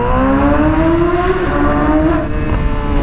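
Yamaha YZF R6 sport motorcycle fitted with a GYTR exhaust and midpipe, its engine screaming loud and close as the revs climb and then ease off, a harsh, continuous howl.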